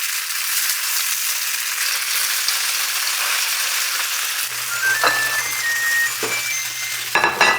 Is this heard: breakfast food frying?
yes